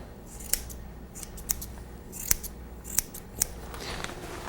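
Grooming scissors trim a dog's fur near the foot pads, a series of sharp metallic snips spaced irregularly about every half second, close and distinct over quiet room hiss.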